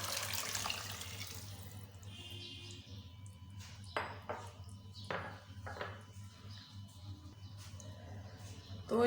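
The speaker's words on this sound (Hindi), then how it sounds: "और 1 बाउल डालेंगे पानी का।" Water runs from a tap into a cooking pot at a low level, with a few metallic clinks and knocks of cookware in a quiet kitchen.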